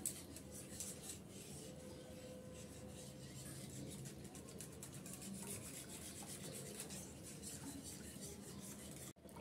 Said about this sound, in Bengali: আমি এখানে একটা হ্যান্ড উইক্স দিয়ে ভালো করে নেড়ে চেড়ে মিক্স করে নিচ্ছি, যেন কোনো দলা পাকিয়ে না থাকে।